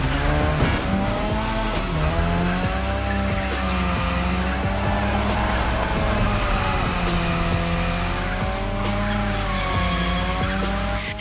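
Car drifting around a drift track in The Crew Motorfest, a loud sustained tire squeal wavering over steady engine roar with a few sharp clicks, continuous throughout.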